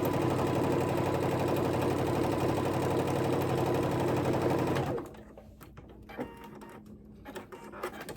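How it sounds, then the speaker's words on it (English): A sewing machine stitches a pocket onto garment fabric in a loud, fast, steady whir lasting about five seconds, then stops abruptly, leaving faint handling clicks and rustles. "you can see that I've sewn the pocket on"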